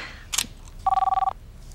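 A telephone rings with a single short electronic trill burst, preceded by a brief click-like clatter, then quiet room tone.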